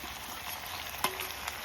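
Potatoes going into a pan of chicken curry for a red-cooked country rooster dish, a steady soft sizzle of frying with one brief clunk as they drop in and a lighter knock shortly after.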